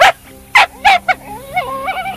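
On a golf course, a dog lets out a few sharp, loud, close barks, then a run of high whimpering whines that rise and fall.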